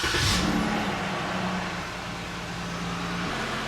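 A car is started after a do-it-yourself oil change, a short burst of engine noise at start-up that settles into a steady, moderately quiet idle.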